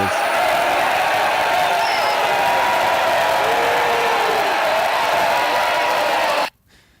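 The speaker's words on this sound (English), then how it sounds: "That's supposed to be crowd booing and heckling" A crowd booing and heckling sound effect: a dense, loud roar of many voices jeering at once, held steady for several seconds and then cutting off abruptly.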